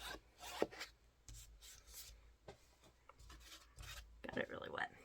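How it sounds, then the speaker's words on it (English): Wet paint being rubbed by hand on a flip-cup poured surface, heard as close, uneven scuffing and smearing strokes in short bursts, with a brief brighter squeak near the end. "And then I just kind of rub it just a little bit to try to integrate it a little more."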